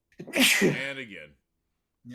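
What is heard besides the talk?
sneeze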